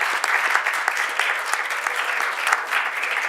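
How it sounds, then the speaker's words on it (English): Audience at a Calexico city council meeting claps steadily, a dense, fairly even round of applause with scattered sharper claps throughout and no talking over it. "Okay, go ahead and clap."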